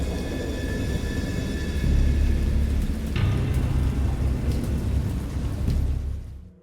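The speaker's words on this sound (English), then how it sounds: "I know that I heard pearls of thunder and other tones which nature utters only in her wildest moods." Thunderstorm of heavy rain with deep rolling thunder, loud and steady for several seconds, including a sharp crack near the middle, before everything fades out at the end.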